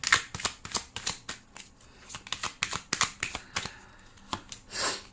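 Tarot cards are shuffled close up, a run of quick riffling flutters and soft slaps in uneven bursts, fairly quiet and with no talking.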